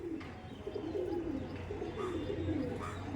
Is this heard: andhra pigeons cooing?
yes